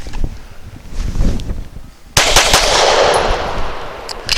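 A Canik TP9 Elite pistol fires heavy PPU 158-grain rounds unsuppressed at a shooting range, sharp close cracks in quick succession with echoing tails after a quieter lead-in.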